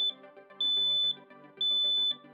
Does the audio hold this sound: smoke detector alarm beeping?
yes